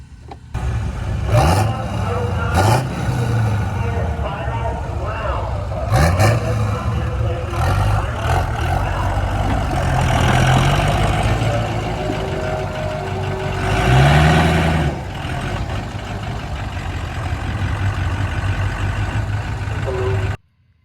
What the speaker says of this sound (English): So we're pretty much just running like a stock truck down the track there.